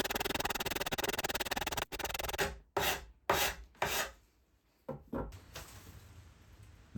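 A hand rasp files oak sleeper wood, tidying small corner bits on the underside of a bird table roof: about two seconds of continuous close rasping, then a handful of short, separate scraping strokes with quiet gaps between them.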